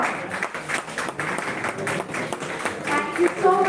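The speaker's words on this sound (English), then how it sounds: "The applause should not stop." Audience applause for a group discussion round at YUGMA 2024, a national-level oratory contest, a steady wash of crowd clapping with voices and cheers mixed in, holding loud throughout and swelling slightly near the end.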